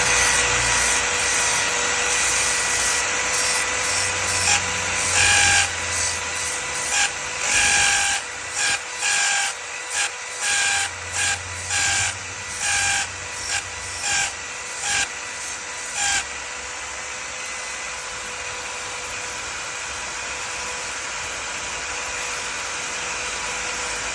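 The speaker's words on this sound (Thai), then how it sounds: "แปะไว้กับตัวนี้เป็นตัวเจาะไม้นะครับ กับสว่านไฟฟ้านะครับ เดี๋ยวจะขัดให้ดูนะครับ" A power drill whines steadily, broken into a run of short bursts as it sands the cut edge of a glass bottle, then settles back into a continuous hum.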